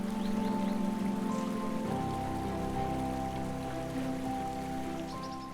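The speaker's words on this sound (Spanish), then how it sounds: "Madakaripura presume de ser una de las cascadas más altas de Java, con una caída de 200 metros que termina en una poza circular de aguas cristalinas" Madakaripura waterfall in Java plunges 200 metres into a circular pool of clear water, giving a steady, dense rushing wash that holds even throughout, with faint tonal sounds running beneath it.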